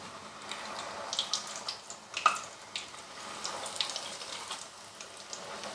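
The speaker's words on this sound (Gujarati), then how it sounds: "હવે આપણે પૌવા તળી લઈએ." Flattened rice (poha) frying in hot oil gives a soft, continuous crackling sizzle with scattered small pops, fairly quiet and heard alone.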